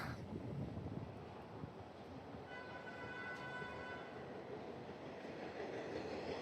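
New York subway train in a station, a steady rumbling roar with a faint high squeal of wheels entering partway through, continuous with no voices.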